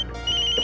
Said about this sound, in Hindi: अरे भैया का फोन।